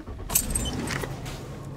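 Keys jangle as a car is being turned on, a short bright metallic rattle over a low engine rumble, close and quiet, with no speech.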